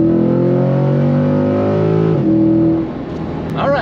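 A Chevrolet Corvette C8 in track mode revs hard, its engine note rising and holding loud and close, then dropping back and settling into a rough idle with a brief higher whine near the end.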